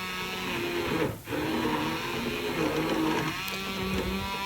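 Blender running continuously to mix persimmon pudding ingredients with cocoa powder and honey, a steady close whirring motor drone with a brief dip in the middle.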